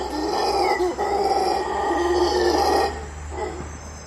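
Howler monkeys let out loud, sustained roaring howls that rise and swell continuously, fading toward the end with a brief renewed call.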